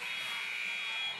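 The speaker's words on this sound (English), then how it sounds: "Second buzzer sounds" At a girls' varsity basketball game in a gym, the buzzer gives a steady electronic tone that holds for over a second, fairly faint and unbroken.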